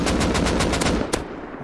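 An AK rifle fires a rapid burst of about eight evenly spaced shots in the Rust survival game, loud and close, ending with one last shot after a brief gap.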